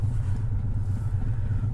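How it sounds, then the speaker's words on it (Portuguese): A Harley-Davidson motorcycle with an open, straight-pipe exhaust idles nearby in a low, steady, pulsing rumble, heard alone over a short stretch. "Parou aqui um casal aqui com uma Harley Davidson com aquele escape aberto"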